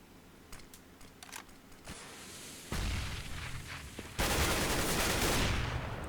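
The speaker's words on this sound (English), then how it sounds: "Trying to follow the trace of gunfire." Counter-Strike match gunfire, with bursts of rapid shots and sharp single cracks followed by a sudden loud blast and a sustained noisy spray of fire.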